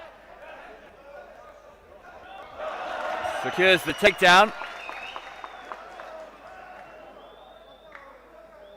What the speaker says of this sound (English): the support of the crowd is audible